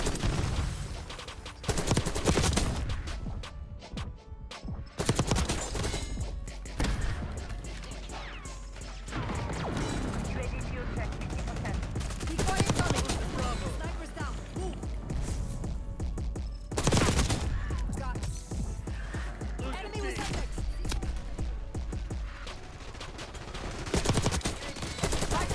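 Krig C assault rifle fire in Call of Duty: Black Ops 6 multiplayer, with rapid bursts of gunshots repeating throughout, loud and close, mixed with other game gunfire and impacts.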